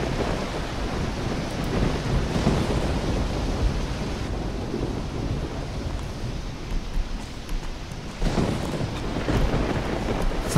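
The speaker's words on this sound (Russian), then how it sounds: "Смотрите, гроза, да" A thunderstorm rages in the video game Risen, with steady heavy rain and rolling thunder swelling loud around 2 and 8 seconds, no talking.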